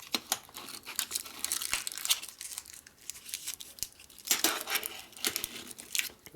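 Heavy-duty plastic being handled on a workbench during a motorcycle engine rebuild gives bursts of close crinkling and crumpling, with quieter pauses between them and no talk.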